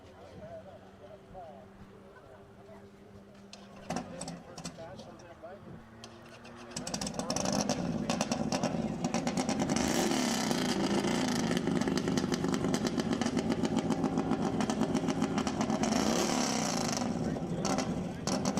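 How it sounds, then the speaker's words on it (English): A 1650cc modified motorcycle running on fuel makes a racing pass on the El Mirage dry lake. A distant, quieter engine gives way to a loud, sustained roar that starts about a third of the way in and holds to the end. "That is a 1650cc modified bike on fuel."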